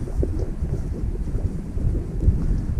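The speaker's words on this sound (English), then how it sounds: "Nice breeze." Breeze on an open desert hike at Amboy Crater buffets the microphone as a constant low, rumbling wind noise with gusty fluctuations, close and fairly loud, with no speech.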